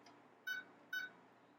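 Two short electronic beeps from a kitchen timer being set, evenly spaced about half a second apart, faint over a low steady hum with no one talking.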